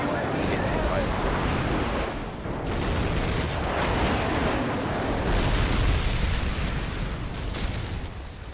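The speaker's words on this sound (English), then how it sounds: "Friendly airstrike on the way." Call of Duty 4: Modern Warfare airstrike in an online match on PS3, a dense, sustained roar of overlapping explosive blasts and rumbling booms, loud and continuous for several seconds.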